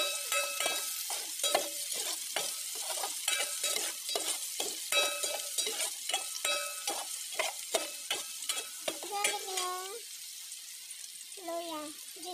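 Garlic sautéing in a pan for a ginataang tilapia dish: a steady sizzle broken by repeated scraping stir strokes, close and moderately loud, with a voice speaking briefly near the end.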